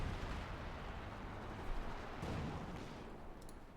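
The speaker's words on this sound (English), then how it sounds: "we got artillery firing away here, trying to silence the mortar emplacement" Artillery fire in the World War II strategy game Company of Heroes 2 shelling toward a mortar emplacement, a steady distant rumble of booms with a couple of sharper impacts, fairly faint throughout.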